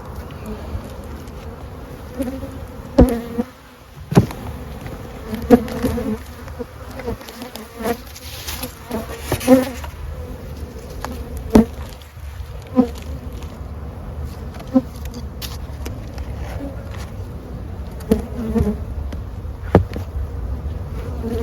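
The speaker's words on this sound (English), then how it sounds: "we've got a lot of bees" Honey bees in an opened winter beehive with pollen patties hum in a dense, continuous close-up drone, broken by scattered handling knocks and clicks.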